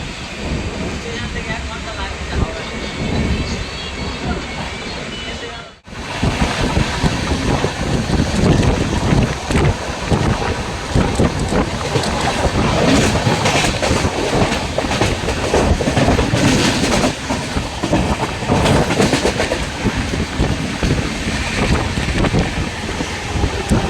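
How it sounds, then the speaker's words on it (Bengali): The Howrah-Puri Superfast Express running at speed, a dense, steady roar of wheels and rattling carriages with heavy wind buffeting, loud and close from onboard, after a sudden brief drop around six seconds. "আমাদের ট্রেন এই সাঁতরাগাছি জংশনে থামবে না।"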